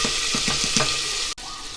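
Garlic frying in melted butter in a pot over low heat, a steady bright sizzle with a few soft stirring knocks, close and alone.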